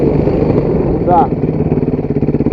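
Motorcycles on a forest ride, a steady low engine drone with rhythmic pulsing idle-like throb, close and loud, with a brief voice-like chirp partway through.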